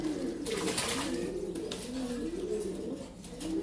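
Pigeons, including Lahori breeds, coo in a continuous, rolling rhythm close by, over a steady background hiss.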